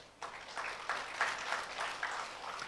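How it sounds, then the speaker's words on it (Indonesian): A church congregation gives a short burst of steady applause, soft and somewhat distant in a reverberant hall, with clapping rising and holding for a couple of seconds. "Tepuk tangan."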